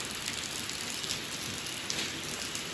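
Heavy rain pours without letup over a flooded street in front of a house, a dense, even hiss of falling water that fills the whole stretch with no voices.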